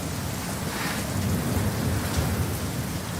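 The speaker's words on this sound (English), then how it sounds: "We've stopped working not because of the hideous thunderstorm and rain" A severe thunderstorm with heavy rain that knocked out a house's power: dense, constant rainfall and a deep, rolling thunder rumble swelling underneath, with no voices.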